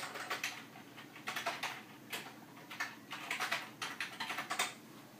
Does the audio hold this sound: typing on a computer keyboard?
yes